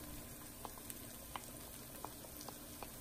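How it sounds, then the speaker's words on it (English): Minced garlic and shallots frying in oil in a skillet: a soft continuous sizzle with scattered small pops and crackles, steady and fairly quiet. "You want to fry it in the oil for about 2 minutes."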